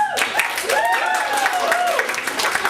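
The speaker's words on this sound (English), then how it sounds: "Round of applause for the new ones!" Audience at an Improv Nation improv comedy show applauding and cheering the first-timers, a steady wash of clapping with whoops and cheers rising above it, loud and close, lasting a few seconds.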